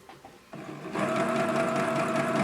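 A sewing machine runs a back tack, stitching fabric near the edge of tape on a curve; a soft start, then a steady, close, continuous motor whir and needle chatter, with no talk.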